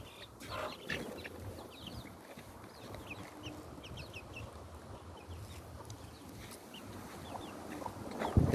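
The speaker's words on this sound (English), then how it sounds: "our small chicken farm." Free-range chickens on a small farm cluck and chatter softly in scattered bursts against a quiet outdoor background, fairly distant and low in level throughout.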